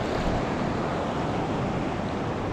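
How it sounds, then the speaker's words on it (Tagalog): Large ocean waves surge and break at a fishing spot on the shore, forming a steady, dense roar that fills the whole stretch with no pauses and no voices. "Grabe kalalaki ng alon dito."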